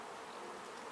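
Honeybees at a hive where a queen is being introduced onto the comb make a dense, steady buzzing that stays even and close throughout the short moment.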